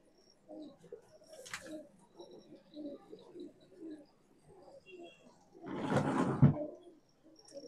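A steady run of soft, throaty coos from gola pigeons pulses at an even rhythm, close and fairly quiet, broken by a couple of brief louder rustling bursts.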